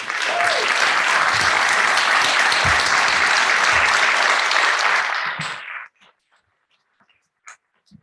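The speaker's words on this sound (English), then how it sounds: "I think also another round of applause is well deserved." Audience applause fills a board of education meeting room, a dense, sustained wash of clapping for about five seconds before tapering off into near silence with a few scattered faint sounds.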